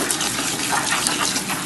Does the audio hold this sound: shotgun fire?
no